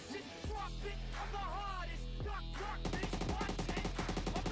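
Gunfire in a battle royale video game, starting with a few sharp shots and then turning into a rapid, sustained burst of automatic fire in the second half, loud and close, with no voices over it.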